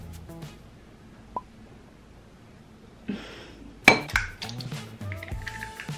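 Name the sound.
egg being cracked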